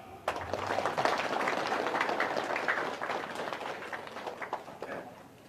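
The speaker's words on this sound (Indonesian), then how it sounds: "Tepuk tangan." An audience at an Indonesian speech gathering breaks into dense applause, many hands clapping together in a sustained burst that gradually thins out, moderately close, with no speech over it.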